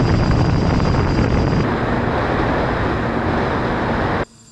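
Engine of a giant radio-controlled cargo plane powering up, a loud steady broadband roar and whine that holds for about four seconds before cutting off abruptly, with no talk.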